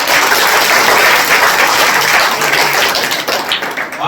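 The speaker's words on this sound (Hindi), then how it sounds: "अपने गांव के लिए जोरदार तालियां।" Loud, dense applause from a village crowd gathered for an Ambedkar Jayanti celebration, sustained steadily for about four seconds before thinning slightly at the end.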